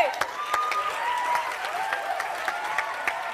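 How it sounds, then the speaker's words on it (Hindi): Steady applause from a stand-up comedy audience, with individual claps standing out sharply above the dense crowd clapping and a few faint voices underneath. "तालियां"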